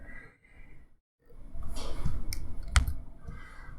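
Sharp mouse clicks during 3D modeling software work, one loud click standing out near the end amid soft desk handling and breathing, with no talk.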